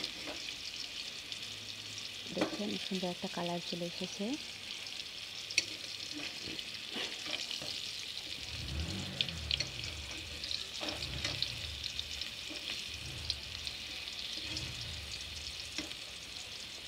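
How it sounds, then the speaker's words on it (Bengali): Pointed gourd (potol) slices fry in a pan with a steady close sizzle, broken by stirring scrapes and a few soft knocks. A voice speaks briefly early on. "দেখতে পাচ্ছেন আমার পটলগুলো প্রায় সিদ্ধ হয়ে গেছে, আর অল্প কিছুক্ষণের মধ্যেই ভাজা হয়ে যাবে।"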